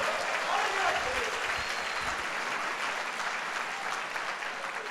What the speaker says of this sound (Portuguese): Só quem recebe, dê um aplauso ao Senhor.